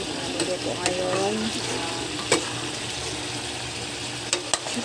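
Chicken liver and gizzards frying with native eggs in a pan, a steady close sizzle with a few stirring clinks and scrapes.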